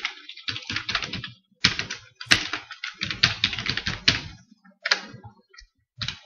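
Fast typing on a computer keyboard to name a folder, heard as close, crisp key clicks in rapid bursts with short pauses between runs.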